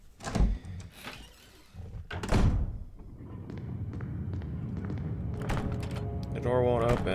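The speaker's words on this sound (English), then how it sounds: "Door won't open." A locked door in the Resident Evil video game rattles and thuds repeatedly as it refuses to open, several loud knocks followed by a steadier rumble, with a voice talking over it.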